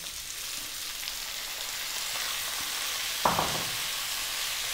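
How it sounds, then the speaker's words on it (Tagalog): Onion and chopped tomato sauté in a pan for an ampalaya-and-egg dish, giving a steady, moderately loud broadband sizzle with a brief stir clatter partway through, no voices. "Gigisahin ko lang siya ng mga 2 to 3 minutes"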